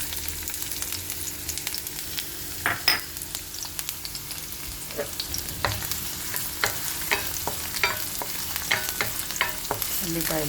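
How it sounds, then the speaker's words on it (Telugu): Onions frying in hot oil in a kadai for mutton kheema, a steady low sizzle with intermittent stirring clicks and scrapes, close and fairly quiet, no talking. "ఆయిల్ వేడెక్కిన తర్వాత ముందుగా ఉల్లిపాయలు,"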